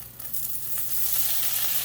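Ingredients sizzle steadily in real butter in a hot skillet, a bright continuous hiss that swells a little after the first moment and holds loud and close with no one talking.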